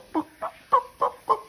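Backyard hen on a farm clucking, five short throaty calls spaced evenly and close by with nothing else around them.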